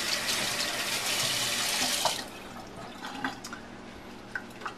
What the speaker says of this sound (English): And just rinse my hands.